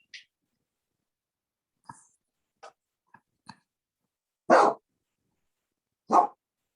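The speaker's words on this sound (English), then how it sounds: "Oh, whose dog is that?" A dog barks twice, close and fairly loud, in a quiet room during a meeting. A few faint clicks and small noises come before the barks.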